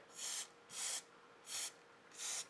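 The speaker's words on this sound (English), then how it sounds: "I'm going to just spray" Four short bursts of spray paint hissing from a can, evenly spaced in a steady rhythm, close and fairly quiet.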